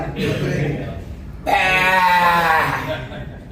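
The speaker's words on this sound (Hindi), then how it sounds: "बकरा के आवाज सुन रहे हैं।" A goat bleats loudly nearby, a wavering drawn-out cry that follows a brief, fainter bleat, with people talking in the background.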